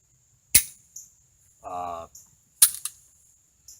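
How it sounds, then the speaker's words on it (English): A Radom P-64 pistol is handled at a shooting range as a round is chambered. Sharp, close metallic clacks come at the slide, followed by a short vocal sound, then another loud clack and a softer click. "And then I can stick one in the chamber."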